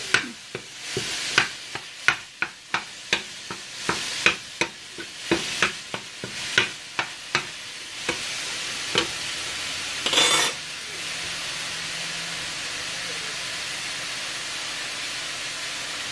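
Ground meat is stirred and broken up in a hot frying pan, a quick run of sharp scraping strokes over a soft sizzle, then a brief burst of steam before the sizzling settles quietly.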